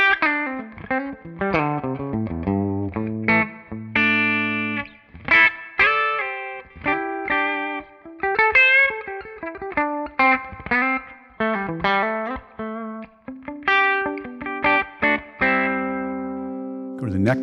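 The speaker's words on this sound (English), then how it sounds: "So let's start here on the clean amp and cab capture." An electric guitar plays through a clean Mini JTM45 amp and cab tone, a busy run of picked notes and chords with sustained ringing tones, steady and fairly loud with no talking.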